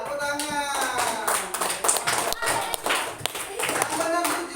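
Schoolchildren in an Indonesian classroom clap their hands together in a lively burst of rapid, uneven claps, close and fairly loud, mixed with children's voices and an adult speaking.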